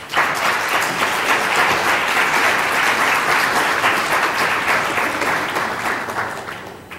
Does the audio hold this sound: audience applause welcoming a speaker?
yes